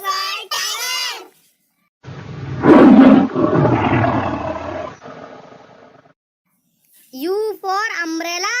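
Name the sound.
tiger roaring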